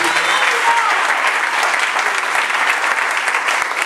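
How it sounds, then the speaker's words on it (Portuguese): A church congregation applauding at a sermon, steady dense clapping that fills the whole stretch at close, even loudness with no talk over it. "Pode aplaudir, aplaude a Jesus"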